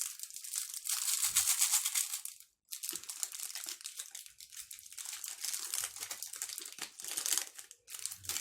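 A crinkly chocolate snack bag being opened and handled, with loud, continuous close-up plastic crinkling and rustling and one brief pause partway through.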